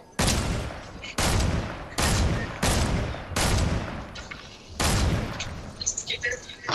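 Loud bursts of gunfire from the video game Fortnite, five or six heavy volleys in quick succession, close and dense, with players talking over and between the shots.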